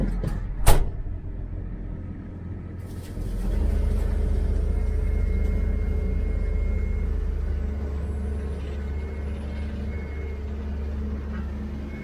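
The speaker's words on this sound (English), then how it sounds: "truck's been running now for about 10 minutes, I'd say." A truck engine idles after about ten minutes of warming up, a steady low rumble with a steady whine. It opens with a sharp click and a burst of air, then settles into a constant drone with no talking.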